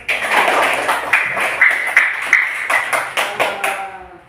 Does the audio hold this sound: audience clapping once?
yes